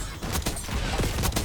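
Sniper rifle shots in a multiplayer video game, a few sharp cracks loud and close over dense, continuous game noise, with no voices.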